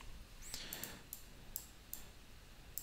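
A computer mouse clicks the save button in a mapping editor, leaving a few sharp, light clicks spread across a quiet room tone, close and isolated.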